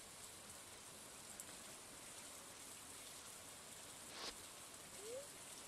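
Steady, soft rain falls on a lake in the video game Stardew Valley, a faint even hiss with no voices and only a couple of brief chimes.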